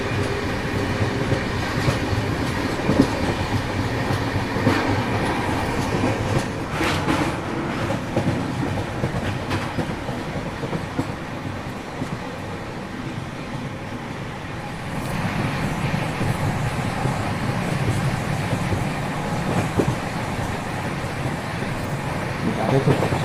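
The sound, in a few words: Coromandel Express train running on rails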